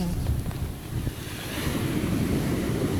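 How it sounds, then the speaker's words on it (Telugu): Big ocean waves at Alleppey beach: a continuous rumbling surf wash with heavy wind buffeting the microphone, steady and fairly close, with no talking. "ఎంతెంత పెద్ద పెద్ద అలలు వస్తున్నాయి అసలు."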